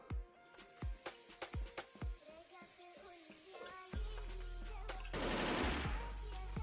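Rapid bursts of gunfire from the online shooter Wolfteam, a string of sharp separate shots early on, then heavier sustained firing and noisy explosive bursts toward the end.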